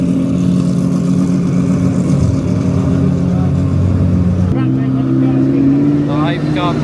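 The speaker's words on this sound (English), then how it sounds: "The Hypercar parade has started." Hypercars revving at the start of a parade at a large gathering, loud sustained engine drone with rising and falling pitch, shifting to a new tone partway through, with people talking over it.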